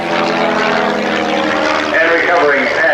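A propeller airplane engine roars loud and close during an aerobatic outside loop at the 1989 Red Deer International Airshow, its pitch shifting partway through as the plane pushes over, with an announcer talking over it.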